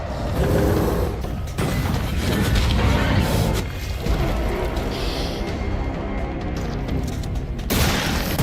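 Dense, continuous bursts of video game gunfire and crashing impacts fill the scene, loud and chaotic, with a brief lull near the end before the barrage resumes.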